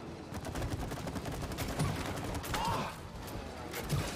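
Rapid gunfire in the video game It Takes Two, a dense, continuous stream of shots and impacts filling the whole stretch without pause.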